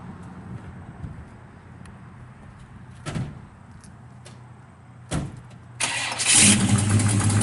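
A 1957 Chevrolet Bel Air two-door hardtop cranks and fires up, catching into a loud, steady idle after a few door-like thuds and clunks earlier on; no talking.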